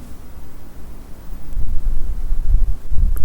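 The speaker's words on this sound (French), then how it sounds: "Quand il y a du vent, ça s'entend vachement." Wind buffets the microphone outdoors at night with low rumbling gusts that swell and fall, growing louder toward the end, with no other clear sound.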